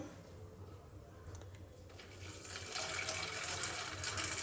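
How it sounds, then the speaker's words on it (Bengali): Warm water pours and splashes steadily, starting soft and turning louder and fuller halfway through, close by with no talk. "এই যে উষ্ণ উষ্ণ গরম জল"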